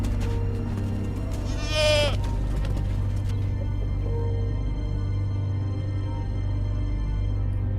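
In an animated village horror story, a goat gives a single clear bleat, close and prominent, over a steady low droning background that runs throughout.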